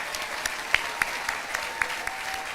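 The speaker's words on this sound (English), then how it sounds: "please join me in one last round of applause for our 2024 Quincy College graduates" Sustained applause fills the hall for the 2024 Quincy College graduates at their commencement ceremony, a steady wash of crowd clapping with a few sharper individual claps standing out.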